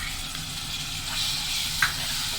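Tomatoes sizzling and frying in a pan for a quail egg roast, a steady soft hiss with a faint stir near the end.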